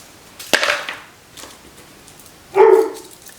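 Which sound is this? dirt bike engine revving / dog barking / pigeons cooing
dog barking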